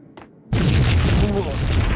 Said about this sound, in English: The explosion made me hesitate and I ran back.